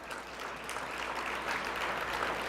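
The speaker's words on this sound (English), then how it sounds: "Round of applause for them." A round of applause from the room at a fundraising dinner for a football event, a dense, even clapping wash at moderate distance lasting throughout, with no talk over it.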